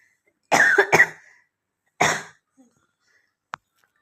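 A person with a lingering cough coughs close to the mic: a quick double burst, a single harsher cough a second later, then a brief faint click in the quiet.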